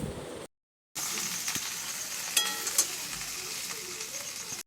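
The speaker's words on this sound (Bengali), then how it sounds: "সোয়াবিনটা রান্না হচ্ছে, আর ভাতটা একটু পরে বসাবো ওখানে।" Soybean with pointed gourd and potato sizzling and frying in a pan, a steady close hiss with faint stirring clicks, briefly cut off near the start.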